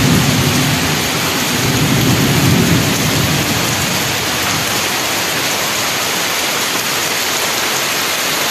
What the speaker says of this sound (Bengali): এই দেখেছেন কেমন জল হয়ে যাচ্ছে, কেমন জোরে বৃষ্টি পড়ছে।